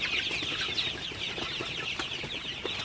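A flock of Sonali chickens being trained onto grower feed clucks and peeps continuously while eating, a dense, even chatter close by with no talking.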